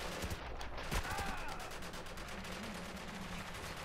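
Gunfire in the video game Spec Ops: The Line, a series of rapid close shots with clattering game sounds, running continuously throughout.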